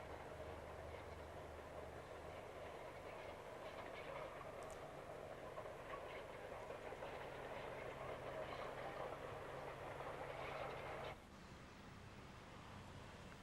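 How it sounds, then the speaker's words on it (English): Locomotive 5231 hauls a rake of BR Mark I coaches toward the Nene Bridge at Wansford on the Nene Valley line, a steady rolling rumble heard from a distance that drops off abruptly near the end. "5231 is seen here approaching the Nene Bridge at Wansford with a rake of BR Mark I coaches"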